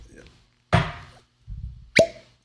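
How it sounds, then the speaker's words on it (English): A cork pulled from a bottle of Elmer T. Lee bourbon, with a sharp close pop near the end following two bursts of handling and voices. "That was a good cork pop."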